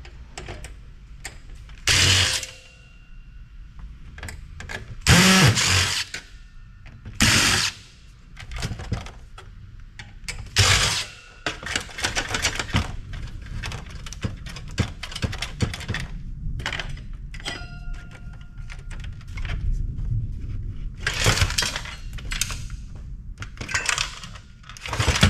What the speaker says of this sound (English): now, got some more screws to get out of here